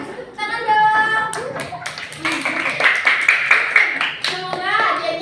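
Schoolchildren in an elementary classroom clap together after being given a prize; close, uneven hand claps run throughout, mixed with children's chatter and an adult's voice.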